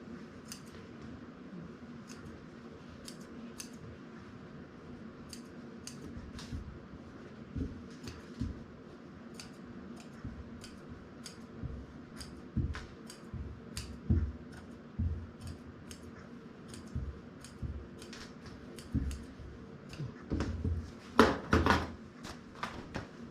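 Scissors cut fabric pattern pieces for a basic vest during garment making, trimming the protruding edges after tailor's tacking; a series of crisp snips repeats through a soft background, with a denser, louder cluster near the end.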